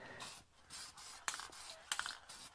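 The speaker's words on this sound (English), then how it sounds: "let's spray a little paint on this" Rust-Oleum hammered spray paint hissing from the can onto a part in short repeated bursts, with a few sharp clicks and rattles between the sprays.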